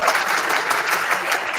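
Audience clapping at a Christology debate, a dense, steady wash of applause filling the whole moment with no voices above it.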